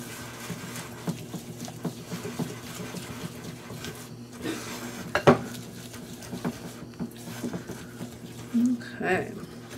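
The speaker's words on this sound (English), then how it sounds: "And whisk it together until it looks like frosting again." Butterscotch mixture whisked in a bowl, the whisk clinking and scraping in quick rhythm close up, with a few sharper knocks against the bowl.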